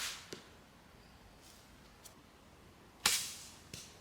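A single arrow released from a Daylite Archery horsebow at an outdoor range, a sharp snap from the string followed by a quick decaying whoosh, with a few faint ticks around it in a quiet setting.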